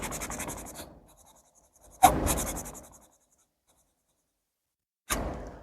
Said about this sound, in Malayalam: ഒരു ക്ലോത്തിൻ്റെ പീസ് വെച്ചിട്ട് ഇങ്ങനെ തുടച്ചാൽ